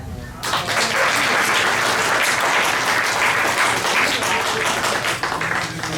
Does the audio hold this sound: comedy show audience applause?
yes